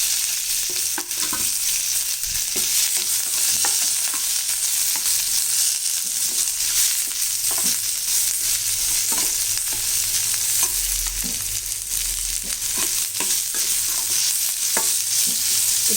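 Onions and curry leaves sautéing in a pan after mustard seeds have popped, a steady loud sizzle with occasional light scrapes and stirring taps running throughout, no voices.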